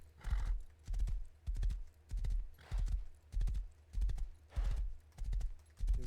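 A horse in the Rust video game walks with regular clip-clopping hooves, evenly spaced paired strikes close and distinct, punctuated by a few short whinnies and snorts.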